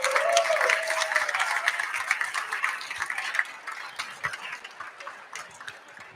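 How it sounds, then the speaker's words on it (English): Applause from a crowd greeting the top three elite runners at a race's field introductions, scattered claps fading gradually over several seconds, with a faint voice briefly audible at the start. "Another round of applause."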